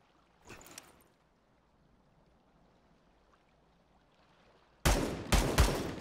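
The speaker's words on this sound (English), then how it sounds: "if I press 3... it pulls out my Gatling gun" A Gatling gun fires in the video game Super People: a short burst early on, then near-silence, and finally loud, dense bursts of rapid gunfire at the end.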